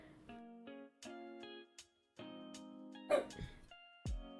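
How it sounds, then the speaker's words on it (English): A pet dog gives a few short barks and yips amid harmonic whimpering tones, fairly close and moderate in volume, with a person talking around the sounds. "He's a barky boy."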